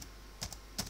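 Two short bursts of computer keyboard keystrokes while Python list code is typed, quiet and close, with a pause between the clusters.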